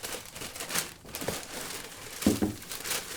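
Wood grain paper inside a Nike SB shoe box being crinkled and handled, in several close, uneven bursts of rustling with short pauses between, alone without talk.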